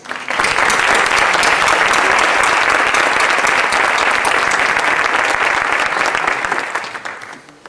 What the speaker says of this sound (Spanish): le pido un homenaje en forma de aplausos para Joaquín Colodrero Ábalos.